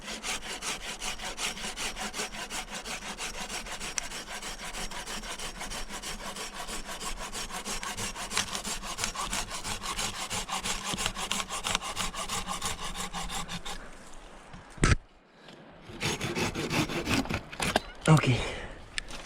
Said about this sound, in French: donc j'ai ma petite scie pliante pour ça